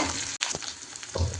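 Onions and curry leaves frying in a pan for egg curry: a brief, close, steady sizzle with a short break and a stirring scrape near the end.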